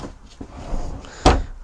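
A cutlery tray drawer sliding open in a Rapido 9048df motorhome kitchen, heard as a single short wooden knock and slide near the end, close and fairly loud, after soft handling noises.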